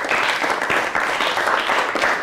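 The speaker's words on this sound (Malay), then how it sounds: "Berikan tepukan." Pupils in a Year 6 science class applaud two winning groups, a dense, continuous patter of many hands clapping together, evenly loud for its short length.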